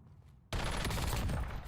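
Rapid burst of video game gunfire from a prestige-shock-muzzle weapon in a Rebirth Island match, cutting in loudly after a quiet moment and holding as a sustained volley to the end.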